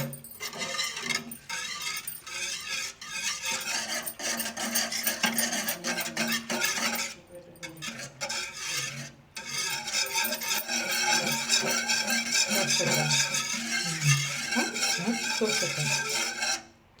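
Milk made from Anganwadi milk powder stirred in a pot while making paneer at home, with a continuous rasping, scraping rhythm of a utensil against the pot that runs steadily, pausing briefly partway through.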